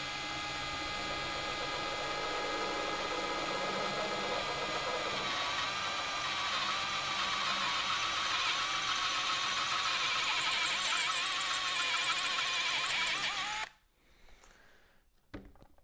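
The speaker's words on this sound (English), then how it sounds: "We'll grab our drill bit and our drill." A power drill grinds steadily into a cast metal spindle on a Ford Model A for about thirteen seconds with a high whine, then stops abruptly, leaving near silence.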